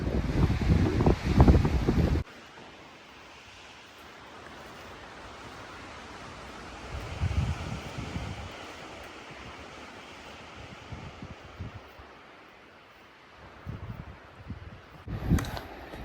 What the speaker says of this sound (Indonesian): Kencang banget ya. Anginnya kencang.